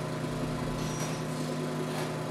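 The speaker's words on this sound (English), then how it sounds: "With the lawnmower in the background." Steady droning engine hum of a lawnmower running in the background, constant and even with no talking.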